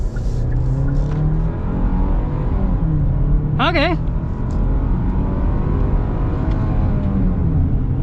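A 2023 Kia Sportage X-Pro's naturally aspirated engine pulls away from a start in sport mode, a steady low drone under road noise, with one brief spoken word and a short high chirp midway.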